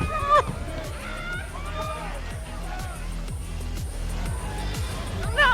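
A concert crowd in the video game Life is Strange: Double Exposure, a busy murmur of voices and shuffling beneath rhythmic thumping music, with brief louder bursts at the start and end.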